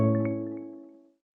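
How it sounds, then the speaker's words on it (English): A Whirlpool appliance plays its power-on welcome chime: a soft, warm, bell-like tone with a few light sparkling accents that rings briefly and fades out smoothly, heard alone. "First off is one like the power on welcoming sounds."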